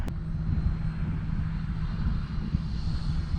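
An RC L-39 model jet in flight, a steady broadband engine roar with wind noise holding constant throughout, no distinct passes or breaks, fairly close to the microphone.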